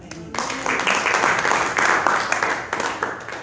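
Clapping fills a church during a theological seminary class, a burst of applause from a gathered crowd lasting a few seconds, with speech mixed in.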